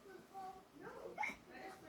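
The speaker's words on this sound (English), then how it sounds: "George drank his juice too quickly, and now he has hiccups" A cartoon piglet hiccups after gulping juice too quickly, a few soft, quick squeaky hiccup sounds that come in spurts within quiet background, one sharper hiccup near the middle.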